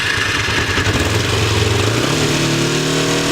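A 2004 Kawasaki Ninja EX250R engine on a cold, rainy day, running close and loud as the revs climb and then settle into a higher steady drone.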